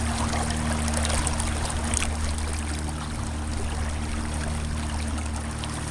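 Water runs steadily through a gold prospecting sluice on a stand, a continuous close rushing and lapping flow with a constant low hum underneath.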